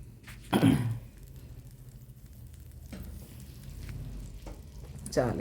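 Soft, steady sizzle of green chillies frying in a pan, with a couple of brief louder clatters and a voice nearby.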